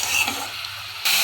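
Leafy greens with fried bitter gourd and salt sizzle in a pan, a close steady frying hiss with soft stirring scrapes that briefly quiets and then surges back louder.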